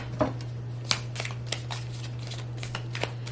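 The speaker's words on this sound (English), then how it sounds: "let's pull some oracle cards and see what comes out" Oracle cards being shuffled by hand, a run of crisp papery riffles and snaps repeating at irregular intervals over a steady low electrical hum, close and fairly loud.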